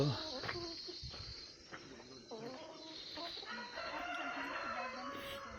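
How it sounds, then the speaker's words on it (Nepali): Chickens cluck and a rooster crows nearby over a constant high insect drone, with occasional faint voices. "यहाँ हामी भालेहरू देख्न सक्छौँ।"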